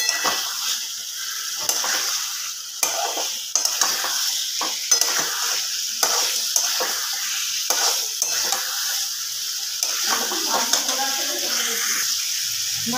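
Boiled potatoes are stirred into a frying mutton keema masala for aloo dum, a loud close sizzle with repeated spatula scrapes and knocks against the pot throughout, and a little background noise.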